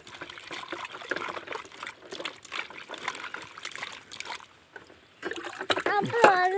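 Cut pumpkin pieces being washed in clean water in a kitchen, with water splashing, pouring and trickling in uneven bursts close by, while someone talks over most of it.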